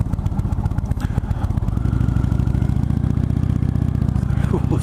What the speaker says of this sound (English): The way it idles, it doesn't really make you feel like